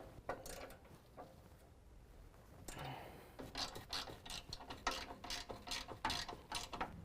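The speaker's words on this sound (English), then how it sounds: "use a 15mm and tighten down all 8 bolts holding our brackets to our frame horns" A 15mm ratchet tightens the bolts holding bumper brackets to the frame horns of a 2017 Chevy Silverado, making quick close clicking ratchet strokes in bursts, quiet at first and then busier, with no voices.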